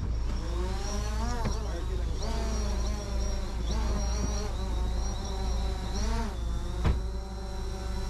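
A camera drone flying during a police operation gives a close, insect-like buzzing whine that rises and falls in pitch in repeated sweeps.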